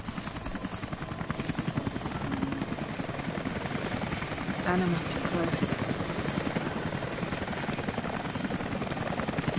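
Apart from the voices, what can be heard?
helicopter flying nearby in the video game Rise of the Tomb Raider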